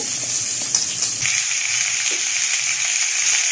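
Radish and cut potatoes frying in hot oil with panch phoron, a steady close crackling sizzle with soft spattering throughout, no voices.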